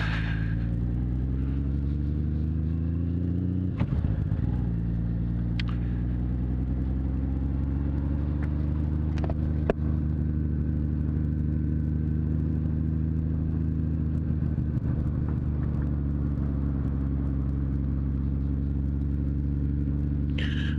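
A car driving along a gravel road on the Tagaranna peninsula of Saaremaa, heard from inside as a steady low engine rumble with tyre noise and occasional knocks and clicks from the rough surface.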